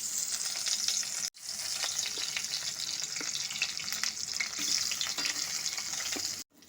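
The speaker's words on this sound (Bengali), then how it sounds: "দই বেগুনের জন্য বেগুনগুলো ভেজে নিয়েছি" Spiced eggplant pieces, coated with salt, turmeric and chilli powder, sizzling steadily in hot mustard oil, a close, continuous crackling fry with two brief drop-outs.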